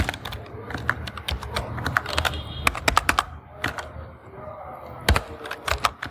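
Typing on a computer keyboard: close, irregular clusters of sharp key clicks with brief pauses between runs of keystrokes.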